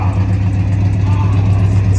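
An Oldsmobile Cutlass engine runs steadily in a garage, with an exhaust leak, giving a loud, continuous low rumble that stays even and close throughout.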